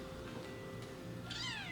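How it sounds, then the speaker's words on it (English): A new kitten gives a single short, high-pitched meow near the end, close and faint over a steady background hum. "You guys want to see my new kitten?"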